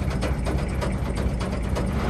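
A narrowboat engine or gearbox running with a rough, uneven mechanical note while entering a canal lock, a steady low rumble with faint ratcheting clatter throughout.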